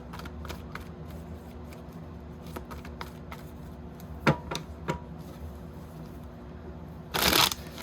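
Soft scattered tarot card riffles and taps, then a quick burst of shuffling near the end, close and fairly quiet with no talking.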